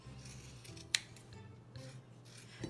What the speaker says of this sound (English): and you're going to trim off the shag now.